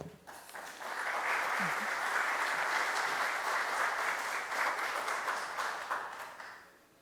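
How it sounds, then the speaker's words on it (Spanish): Audience at an electrical engineering conference breaks into loud sustained applause welcoming a speaker to the stage, rising quickly and fading out after about six seconds. "ustedes lo reciben con un fuerte aplauso"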